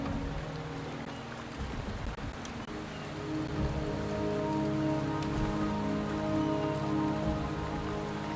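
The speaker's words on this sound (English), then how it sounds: "The rain is subsiding" Steady rain pours in the Wuthering Waves game world, a dense continuous patter of drops on surfaces with low rumbling underneath, holding even and fairly loud throughout with no voices.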